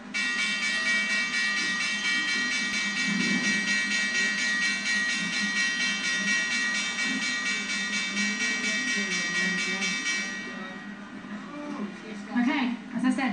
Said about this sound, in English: Just wait to hear from the bell.